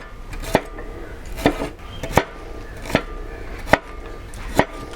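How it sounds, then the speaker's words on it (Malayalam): A knife chops shallots for a Kerala-style duck fry, giving about six crisp, evenly spaced cuts against a board, each a short distinct knock over faint kitchen background. "ഇനി ഒരു 30 അല്ലി ചെറിയുള്ളി ഈ കാണുന്ന പോലെ നമുക്ക് അരിഞ്ഞെടുക്കാം"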